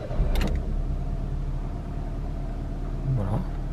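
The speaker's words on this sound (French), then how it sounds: "il n'y a plus qu'à démarrer la voiture. Donc contact, démarrage." A Peugeot 206 1.4 or 1.1 petrol car after an oil change: a brief starter crank and catch near the start, then a steady low rumble of the engine idling close by.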